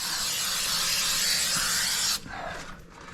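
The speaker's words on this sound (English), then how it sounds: "I'm going to spray around the area where I'm putting it." A steady, loud hiss from a spray can runs for about two seconds, then stops abruptly, leaving quieter room noise, during rotten subfloor repair in a mobile home.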